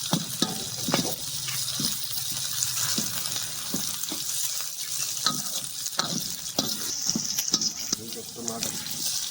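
Chillies frying in a pan for moong dal, a continuous sizzle broken by repeated scraping stirs of the spoon against the pan, close and fairly loud, with some talk in the background.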